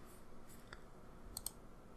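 Two quick, very faint mouse clicks close together, heard in near silence.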